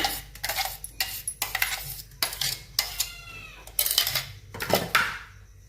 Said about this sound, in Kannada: ಒಂದು ದಬ್ರಿ ಒಳಗೆ ತೆಗಿತಾ ಇದ್ದೀನಿ ಜಾರ್ನಿಂದ